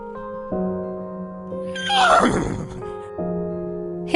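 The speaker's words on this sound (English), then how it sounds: "Horse." A horse gives a single loud, shaky whinny in the middle of the clip, rising and then trailing off, set over steady sustained background music tones.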